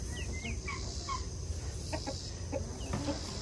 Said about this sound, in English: One of the chicks are out here.